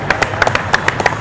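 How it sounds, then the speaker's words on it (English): A few scattered handclaps ring out in an uneven rhythm for a bull rider at an outdoor Christmas market, close and fairly sharp, with no voices over them. "Big round of applause."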